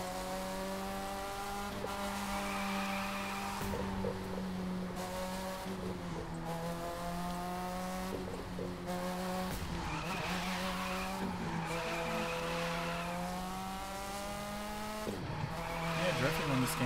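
A Mazda RX-7 with a rotary engine drifts in the video game The Crew 2, giving a sustained high, buzzing engine whine with rising and falling revs and tire squeal, while a person talks over it.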